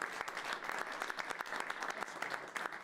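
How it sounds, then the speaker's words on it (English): Dense, steady applause from people gathered at a cabinet meeting, a continuous patter of many hands clapping at moderate volume throughout. "Yeah, clap for that."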